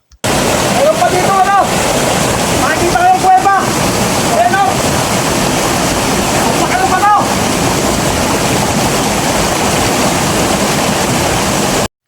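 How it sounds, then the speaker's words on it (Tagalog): A powerful forest waterfall roars loud and steady at close range, a dense continuous rush of falling water, with brief whistling or calling sounds rising over it in the first seven seconds. "Ang lakas ng patak ng tubig."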